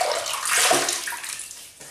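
Water splashes from a basin as a man wets his face again before a wet shave with a double-edged razor, a short close splashy rush that fades at the end.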